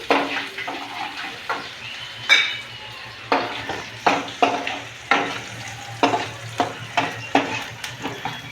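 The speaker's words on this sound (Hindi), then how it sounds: "तेल मेरा आ गया है, प्याज और जीरा ये थोड़ी थोड़ी सुनहरा होने तक करूँगी मैं" Chopped onion and cumin seeds fry in hot oil in a pan, a steady close sizzle broken by repeated stirring scrapes and light clinks of a spoon against the pan.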